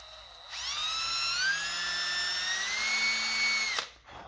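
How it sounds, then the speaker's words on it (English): A power drill bores into a crankbait bill, a steady high-pitched whine that holds for about three seconds, rising slightly in pitch, then stops abruptly. "And drill a hole right there."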